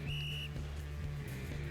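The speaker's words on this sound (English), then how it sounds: "With a violently loud blow of his whistle, the coach also takes his position to show the proper technique." A coach in a video game gives one short, shrill whistle blast at the start, and a low steady hum carries on after it.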